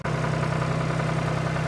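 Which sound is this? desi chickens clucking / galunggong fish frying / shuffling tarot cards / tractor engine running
tractor engine running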